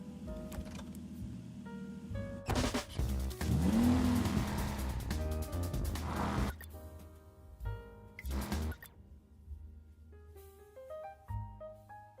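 A car on a movie set drives through a scene amid a sound-effects-heavy mix, its engine surging and fading with a tire-squeal-like sweep mid-clip, alongside tonal music-like tones and pauses.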